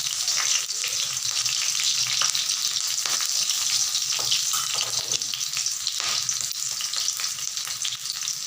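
Crushed garlic, black cumin and chili fry in hot oil with a loud, continuous crackling sizzle and scattered spattering pops, close and unbroken throughout with no voices.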